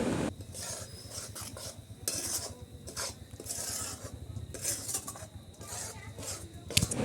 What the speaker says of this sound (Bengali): এর মধ্যে আমি এবার বাদাম গুঁড়োগুলো দিয়ে দেব, দিয়ে খুব ভালোভাবে নেড়ে নেব।